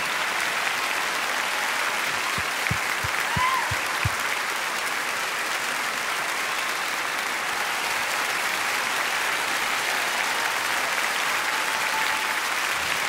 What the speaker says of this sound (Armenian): դուք բարձր ծափահարությունը ողջունեք